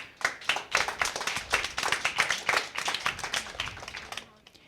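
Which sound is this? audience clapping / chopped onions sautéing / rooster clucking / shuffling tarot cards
audience clapping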